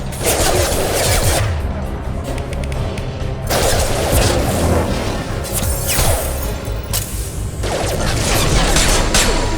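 Mass Effect 2 combat fills the scene with dense gunfire bursts and booming explosions, loud and continuous with sharp impacts throughout and no clear pauses.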